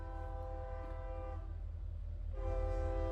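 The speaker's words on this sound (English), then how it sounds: "Confirmation with that train coming by." A train passes nearby with its horn sounding a sustained chord, holding steady, briefly easing, then swelling louder again over a constant low rail rumble, with no voices.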